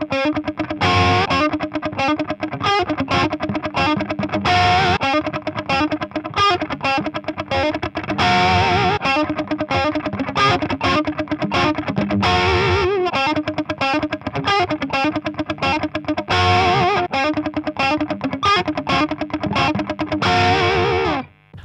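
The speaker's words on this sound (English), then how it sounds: "the first comparison between all the different guitar picks is solid picking" Distorted electric guitar played with solid, steady picking, compared across different picks including a thick pick and a Fender pick; driven, dense strummed and picked notes, loud and continuous, with effects and no talking.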